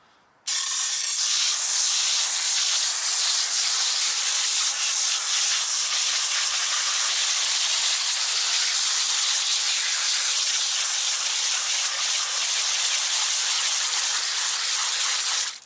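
An IK9 foamer fitted with an orange nozzle sprays wheel cleaner in one loud, unbroken hiss that starts abruptly and keeps going at an even level, with no talking.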